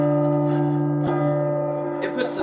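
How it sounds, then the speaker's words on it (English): In the P.T. Silent Hills demo, a bell's deep sustained tone hangs steadily, with a fainter strike partway through and a few brief scrapes or murmurs near the end. "It puts the bell and then the moaning person."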